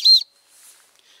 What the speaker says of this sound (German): Da vorne ist eine Pfeife.